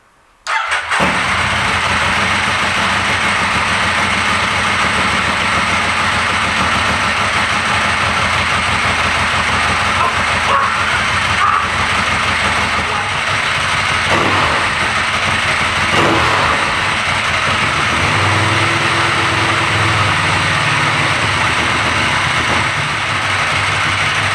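A Ducati 1098 motorcycle engine, out of its frame during a build, fires up after a brief silence and then runs loudly and steadily at a rough idle with slight rev changes.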